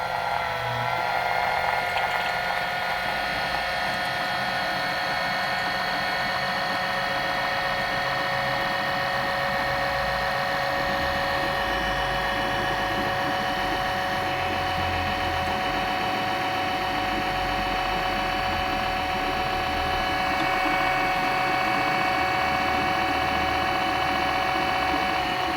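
An oil extraction pump draws oil during an oil change on a 1.6 petrol T-GDI Kia Sportage, giving a steady, close, whining motor drone that holds throughout with only slight shifts in tone.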